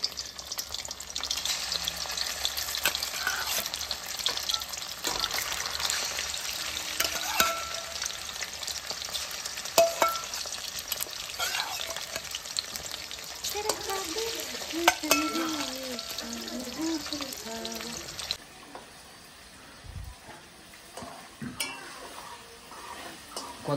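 Meat rubbed with turmeric and salt fries in a pan with a steady, fairly loud sizzle and occasional stirring scrapes. The sizzle drops away sharply near the end, leaving quieter kitchen noise.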